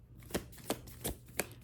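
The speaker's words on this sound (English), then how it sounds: "I didn't want to stop the shuffling" Tarot cards being shuffled by hand, faint and close, in four quick separate riffling bursts spaced about a third of a second apart over quiet background hum.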